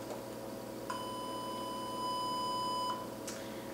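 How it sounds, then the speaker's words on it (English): A steady 1000 Hz sine tone from a homemade audio sampler sounds for about two seconds, clean and fairly quiet over a faint background hiss, starting and stopping abruptly with small clicks. "Now I'll try a frequency of 1000 Hz, which should be relatively higher in pitch."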